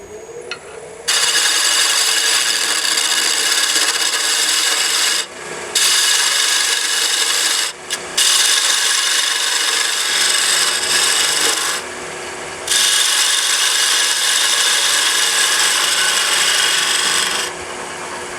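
A piece of wood is shaped by hand with a rasp or sander. Long, steady, loud abrasive strokes run in several extended passes, each broken by a brief pause. Nobody speaks.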